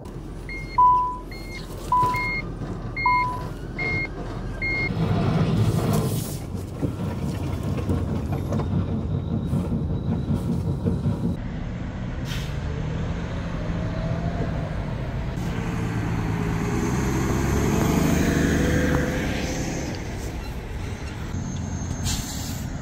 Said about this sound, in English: Let's take it for a test drive now.